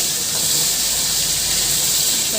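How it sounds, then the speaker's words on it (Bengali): Hilsa fish fry in hot oil with salt, giving a steady, dense hiss of sizzling that stays even and close throughout, with no talking. "ইলিশ মাছটাকে ভেজে নিচ্ছি নুন আর লবণ দিয়ে"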